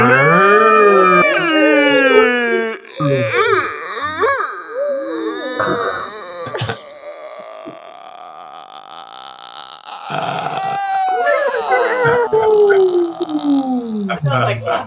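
Several people imitate cattle, horses and oxen together at a Passover seder, voicing overlapping drawn-out moos, whinnies and grunts that rise and fall in pitch, with a quieter pause in the middle before the animal noises swell again, mixed with laughter.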